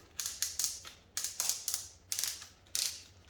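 Torque adjustment ring on an Ozito 18V drill driver being turned, giving close, crisp ratcheting clicks in short bursts of two or three, separated by brief pauses.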